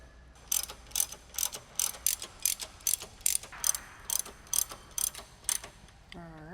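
Bolts on a Ford Mustang S197 sway bar are run down with a ratchet, giving about fourteen quick clicking bursts in a steady rhythm, close and clear, with no voices.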